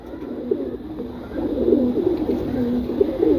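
Pigeons, including a large young bird and its parent, coo in repeated soft, throaty phrases close by, several rolling calls overlapping one after another with faint background noise.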